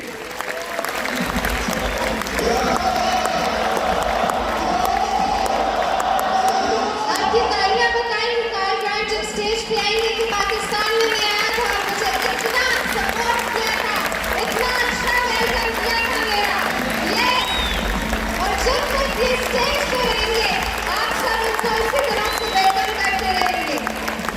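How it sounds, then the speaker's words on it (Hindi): Sustained applause from a large conference audience fills the room, steady and dense throughout, with some crowd noise and scattered voices mixed in. "please put your hands together"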